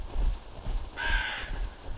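A bird caws in the survival game Backwoods, one short harsh call rising clearly above low background rumble and ambient game sound, heard alone without talk.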